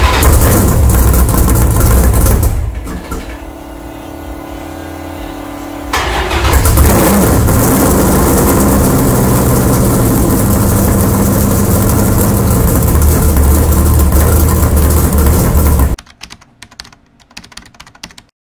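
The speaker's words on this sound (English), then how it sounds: "We're going to go ahead and give this thing its first fire up with exhaust on." A 1971 Dodge Dart engine cranks and fires up with its new exhaust, then runs at a loud, steady idle with a deep exhaust rumble before cutting off abruptly.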